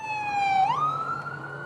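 An emergency vehicle siren on a street in Vancouver, Canada, where ambulances and fire engines are at the scene of a crash at a street festival; a single loud, clear wailing tone sweeps up and holds over a low traffic rumble.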